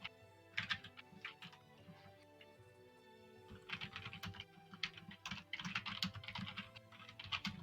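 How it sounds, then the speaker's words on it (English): Rapid clattering keystrokes on a computer keyboard, in bursts with short pauses, close and fairly loud, with no talking. "Oh, I hear you typing."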